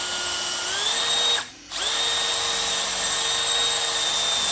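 A power drill drilling holes during rust repair on a 1983 square-body truck whirs steadily with no voices, cutting out briefly for a moment before spinning back up and continuing to whine.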